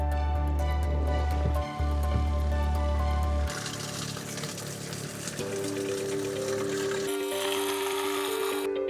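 A TIDAL 18V battery-powered fill tank pumps water through a hose into a backpack sprayer: a steady motor hum with rushing flow that shifts in tone about midway and again near the end.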